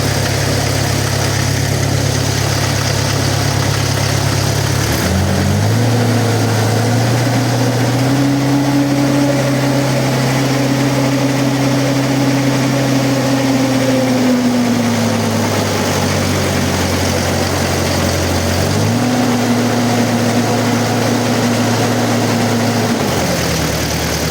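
A vehicle's engine runs loud and close with its rear half-shaft removed, driving only on the front axle; the steady drone rises and falls in pitch as the revs change.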